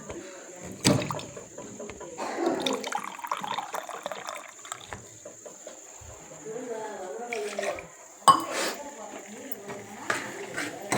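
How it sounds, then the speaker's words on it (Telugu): Water poured into a cooking pan while making palak paneer at home, a splashing, gurgling stream with a steady high whine in the background and a voice talking over parts of it. "ఇప్పుడు వాటర్ పోసుకుంటున్నానండి."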